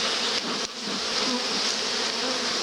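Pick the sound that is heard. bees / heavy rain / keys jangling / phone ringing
bees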